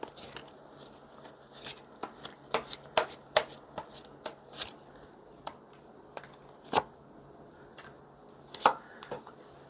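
Tarot cards are shuffled and drawn up close in quick papery riffles and sharp flicks, which form uneven clusters of crisp snaps over a quiet room with no talking.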